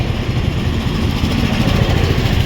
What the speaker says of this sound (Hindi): अब हम यहाँ से चलते हैं अपनी बाइक में।